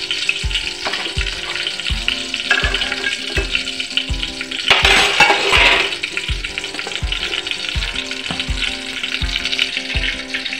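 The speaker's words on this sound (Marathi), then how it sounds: "तुम्ही बघू शकता आपलं तूप चांगल्या प्रकारे विरघळत चाललेलं आहे।" Ghee melting and sizzling in a pot for rice kheer, a continuous frying hiss with regular soft knocks and a brief louder surge midway, close and alone without talk.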